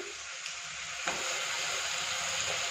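Radish and potato sautéing in a pan for a radish masala dish, a steady close sizzle with a faint scrape of stirring partway through and no talking.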